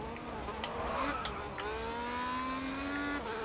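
A car engine in a racing video game accelerates, its pitch climbing smoothly through the gears, with faint tire noise and quiet game audio in the background.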